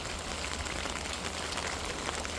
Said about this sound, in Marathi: इतका पाऊस असा पाऊस कधीच पाहिल पाहिला नव्हता